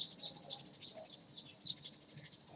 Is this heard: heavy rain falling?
no